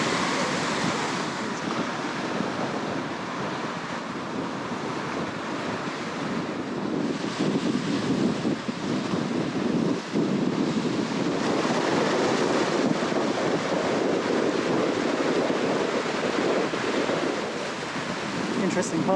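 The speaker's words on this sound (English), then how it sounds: "Oh, it is super windy." Strong wind and waves roar continuously at the water's edge near Tea Gardens and Hawks Nest, a loud broadband rush with gusts buffeting the microphone throughout.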